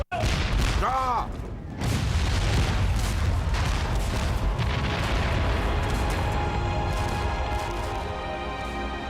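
British cannon bombard New York's rebel defenses in September 1776, staged as a heavy opening boom followed by a dense, sustained barrage of rumbling blasts, with voices mixed in.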